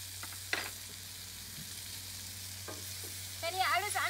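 Chicken pieces and flour frying in butter in a pan, stirred now and then, with a constant close sizzle, a few sharp utensil knocks and a louder burst of scraping and sizzling near the end.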